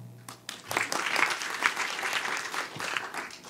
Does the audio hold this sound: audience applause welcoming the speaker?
yes